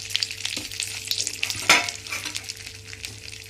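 Cinnamon, cloves, cardamom and bay leaf fry in hot butter and oil, giving a steady close sizzle with a few sharper crackles and a brief stirring scrape near the middle.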